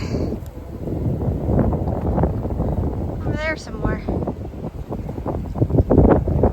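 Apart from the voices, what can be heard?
strong wind blowing outdoors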